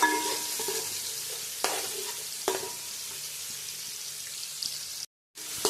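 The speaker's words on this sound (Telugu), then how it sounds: "వంటని మీడియం ఫ్లేమ్లో పెట్టుకొని పచ్చిరొయ్యల్ని బాగా వేయించుకోవాలండి" Raw prawns fry in a pan on a medium flame with a continuous hissing sizzle. A few light stirring clicks sound over it, and it cuts out briefly near the end.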